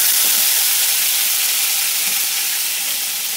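Whole cumin seeds and a bay leaf tempering in hot mustard oil for a raw papaya kofta curry, giving a steady, close, bright sizzle with a faint crackle and no talking.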